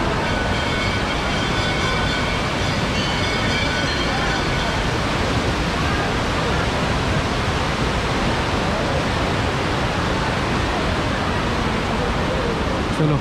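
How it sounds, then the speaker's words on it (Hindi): Powerful rushing water roars at Jatmai waterfall near a small bridge in Gariyaband, Chhattisgarh, a loud, unbroken broadband torrent that holds steady throughout. "यहाँ देखो पानी कितना ज़बरदस्त बहाव है"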